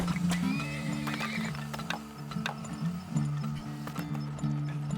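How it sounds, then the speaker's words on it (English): Horses in the oil-drilling video game Turmoil neigh and whinny repeatedly over a steady game music bed, with light clip-clopping hooves and clicking ratchet-like mechanism sounds throughout. "And I think we're out of horses, but we can upgrade the existing horses we have."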